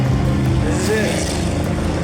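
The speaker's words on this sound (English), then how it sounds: "Surrounded by so many buggies. And they're all just revving." Several dune buggies rev their engines together in the Huacachina desert oasis in Peru, a continuous loud rumbling drone close by, with a person talking over it.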